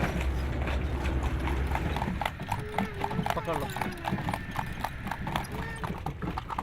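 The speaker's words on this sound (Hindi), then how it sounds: "घोड़े को पाँव से जो टिक टिक की आवाज़ आती है वो बहुत अच्छी लगती है।" Horse hooves clip-clop at a steady trot while the horse pulls a tanga along a road, close and rhythmic, with a brief spoken voice over the hoofbeats.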